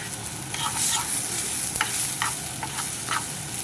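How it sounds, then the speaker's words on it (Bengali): Lentils (dal) being stirred and fried in a pan for vegetarian khichuri, with a steady close sizzle, scraping spoon strokes and occasional brief clinks, no voices. "ডাল আমার ভাজা হয়ে গেছে"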